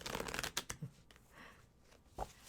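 Tarot cards being shuffled by hand, a few quick riffling bursts at the start and a short flick near the end, close and fairly quiet.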